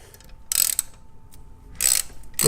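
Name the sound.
ratchet removing hex screws from Triumph Bonneville exhaust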